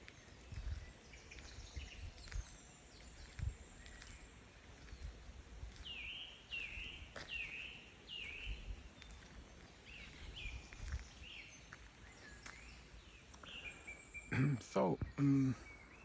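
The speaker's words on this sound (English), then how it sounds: "go outside in the wood and enjoy, or on the meadow, wherever the birds can sing" Birds call and sing outdoors on a morning meadow or woodland edge, with repeated chirping phrases fairly faint against a steady insect-like background hiss, and a louder, nearer call bursts in near the end.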